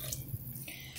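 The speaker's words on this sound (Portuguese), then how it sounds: "Colocamos a água." Water pours into a pot of beans being prepared for pressure cooking, a brief, faint splashing trickle heard alone.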